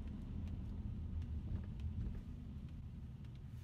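A car rolls along with a steady low road rumble and a bit of wind noise heard from inside the cabin, with no one talking.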